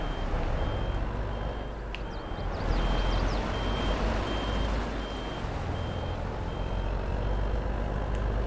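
Steady reversing beeps from a truck in the Farming Simulator 22 farming game, repeating at a regular pulse over constant engine rumble and a dense low mechanical drone, with no talk.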